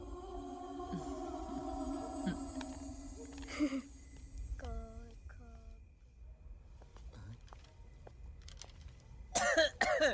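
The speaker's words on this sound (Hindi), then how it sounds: "बहुत खांसी आ रही है" A few coughs surface amid background voices and household noise, with a louder burst of coughing near the end.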